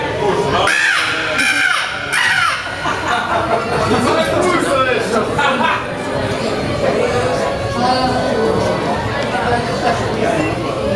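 A voice imitates a crow cawing with repeated harsh calls, loud and close, amid chatter from a live crowd at an evening show.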